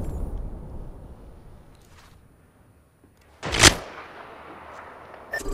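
Gunfire in the battle game Apex Legends: one sharp, loud burst rings out near the middle after a quiet stretch, trailing into a decaying tail, with faint clicks and a smaller crack at the end.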